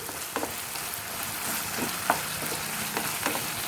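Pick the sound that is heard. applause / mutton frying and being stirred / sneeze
mutton frying and being stirred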